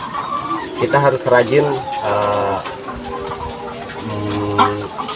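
Chickens cluck and chatter nearby in a poultry house while a person speaks over them and rakes their feed, with a steady background of farm noise.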